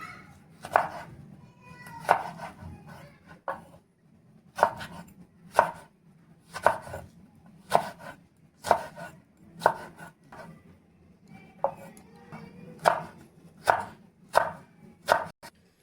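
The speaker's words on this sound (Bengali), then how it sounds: "তো চলো এবারে দুটো বেগুনই আমি কেটে নিই।" A knife chops eggplant on a cutting board in a home kitchen, giving a steady series of crisp, close thuds about two per second, each a short sharp knock over quiet background noise.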